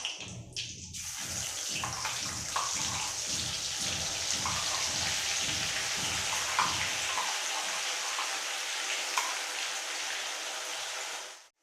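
Ground masala paste fries in hot oil for a Marathi-style chicken curry, giving a steady sizzling hiss with faint stirring knocks early on, close up with no talk.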